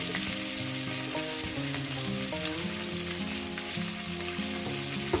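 Sliced onion sizzles steadily in hot oil in a pan, a dense continuous frying hiss with a faint tonal hum underneath, no voices.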